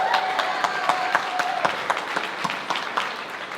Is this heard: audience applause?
yes